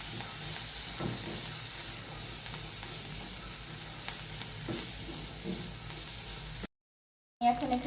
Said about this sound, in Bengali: এখন আবার একটু সুন্দরভাবে নেড়ে চেড়ে দিতে হবে এভাবে